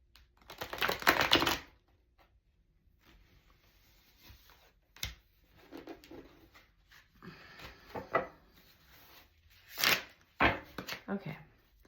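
Tarot cards being shuffled by hand, several brisk bursts of riffling and slapping card noise separated by quiet pauses, close and fairly soft.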